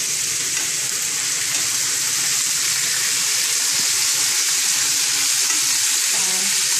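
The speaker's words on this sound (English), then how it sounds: "I'm just lightly going to be cooking the chicken a little bit on each side for about 5 minutes" Chicken pieces fry in a hot pan with a loud, continuous sizzling hiss, close up and steady, with faint scraping under it and no voices.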